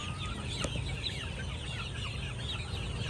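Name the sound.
hens clucking at a game farm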